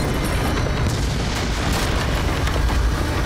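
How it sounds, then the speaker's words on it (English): Continuous roar of explosions in the 2018 Call of Cthulhu video game, a dense, loud rumbling barrage with overlapping booms and no clear gaps, heard alone without talk. "I've started a series of explosions here"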